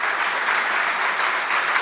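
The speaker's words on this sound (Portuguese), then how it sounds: "E uma salva de palmas para vocês." Steady applause from a conference audience at a national road maintenance event, a dense even wash of many hands clapping, loud and continuous.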